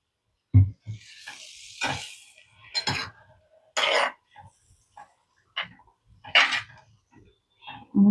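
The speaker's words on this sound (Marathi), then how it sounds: "लागेल तसं पाणी घालून घ्या." Water is added to a hot pan of soaked sandge, giving close, sharp hissing bursts separated by quiet gaps.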